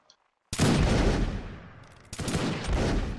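Musket volleys in the Mount & Blade: Warband Napoleonic Wars mod: after a brief hush, a loud, crackling line volley erupts and rolls away, then a second ragged volley follows about a second and a half later.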